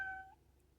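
A sound book plays a short recorded kitten meow, a brief high tonal call that fades quickly and is heard alone at low volume.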